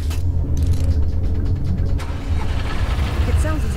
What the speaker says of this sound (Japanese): モーターのエンジンがかかったような音がしたぞ。